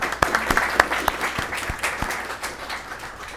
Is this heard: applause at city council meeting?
yes